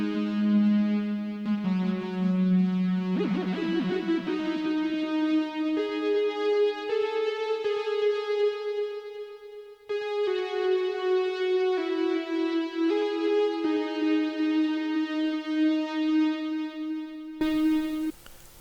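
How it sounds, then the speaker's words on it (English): Fat Mask Lead, a Xenology synth lead preset, plays a sustained, buzzy, harmonically rich melodic line of long held notes with a few pitch glides, loud and alone without any talking. "the name of the lead is called Fat Mask Lead"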